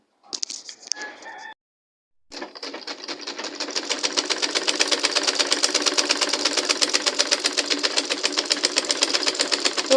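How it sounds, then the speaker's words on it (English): Sewing machine stitching a back dart on a blouse, running in a fast, steady, even rhythm of needle strokes up close, after a short burst of motor at the start and a brief pause. "So I'll be sewing it now for you to see it"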